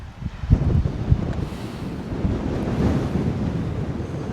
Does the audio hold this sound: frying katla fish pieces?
no